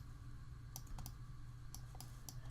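Computer keyboard keys are pressed in a few soft, separate clicks over a low background hum, with no talking.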